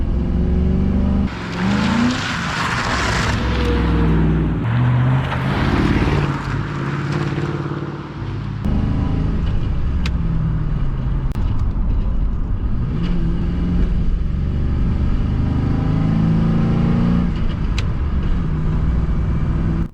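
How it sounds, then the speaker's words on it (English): A Crown Victoria with a 5-speed manual swap downshifts and revs hard through a corner: the engine note climbs and falls in several surges, loud and close, with a brief drop-off midway. "watch me downshift and hit this corner right quick."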